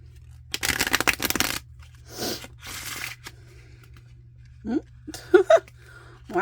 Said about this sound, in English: I haven't even done a good shuffle of my cards in a while.